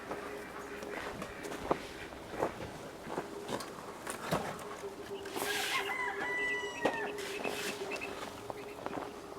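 Chickens clucking and a rooster crowing at a 10 by 10 backyard chicken coop on a rural property, steady clucks throughout with a drawn-out crow midway, close and moderately loud.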